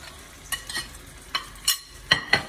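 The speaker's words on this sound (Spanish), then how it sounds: "Y lo vamos a dejar friéndolo unos 2-3 minutos." Red tuna fries with onions in hot oil in a pan, a steady crackling sizzle up close, punctuated by a few sharp scrapes and clinks of a utensil.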